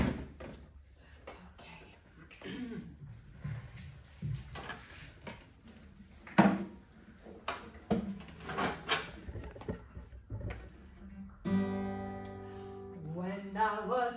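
Drawer number 3 is opened with a series of wooden scrapes, knocks and rattles over several seconds, close by, before a loud, ringing music-box tune starts up.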